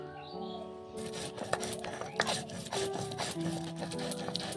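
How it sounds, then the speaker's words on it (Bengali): Mustard seeds and green chillies are ground into paste, likely on a stone, with continuous rough rubbing and scraping strokes that fill the clip at a close, fairly loud level, joined by faint clinks. "সর্ষে আর কাঁচা লঙ্কা ভালো করে বাটা হয়ে গেছে"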